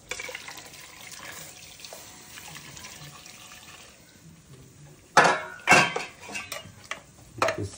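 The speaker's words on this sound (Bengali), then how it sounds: "গরম জলটা ঢেলে দিই।" Hot water being poured into a pressure cooker of meat in a home kitchen, a soft trickling stream at first, then louder splashing and metallic clanks of the pot against the rim toward the end.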